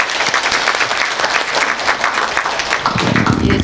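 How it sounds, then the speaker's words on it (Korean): An audience at a Korean Buddhist philosophy seminar gives warm, sustained applause to welcome a speaker; the many hands blend into a continuous clatter that swells slightly near the end. "자, 그럼 큰 박수로 우리 사장님 모시겠습니다."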